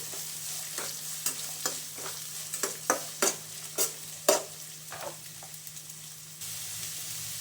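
Onions with curry leaves frying in oil for a bitter gourd stir-fry, a steady soft sizzle broken by a series of sharp stirring scrapes and clinks, with no talk.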